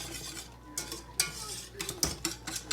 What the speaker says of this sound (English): you need to continuously stir while it's doing this